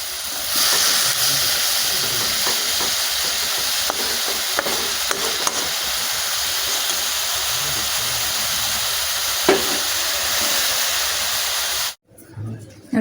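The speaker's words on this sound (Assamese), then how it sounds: "কবি ভাজি আছোঁ" Cabbage fries in a pan while it is stirred, giving a steady close sizzle and hiss with light scraping strokes throughout, then cutting off abruptly near the end.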